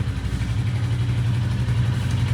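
A Royal Enfield motorcycle runs at a steady idle close by, giving a continuous low, throbbing engine drone with no talking.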